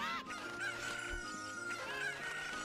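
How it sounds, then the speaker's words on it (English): Chickens in the video game Ocarina of Time cluck and squawk repeatedly, faint and quiet in the game audio mix. "They're both getting trolled by the chickens."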